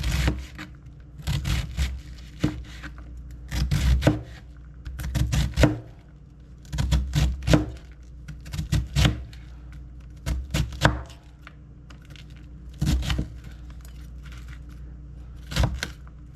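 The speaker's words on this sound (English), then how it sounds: "I just cut him in small pieces." Knife chopping soup ingredients into small pieces on a board for cabbage soup, sharp close chops in quick bursts with pauses between, no talking.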